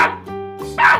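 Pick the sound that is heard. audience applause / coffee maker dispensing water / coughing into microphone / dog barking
dog barking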